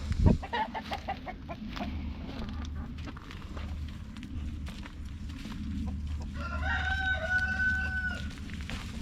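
A rooster crows once, loud and drawn out near the end, after a stretch of clucking and scratchy farmyard noise with a low background rumble.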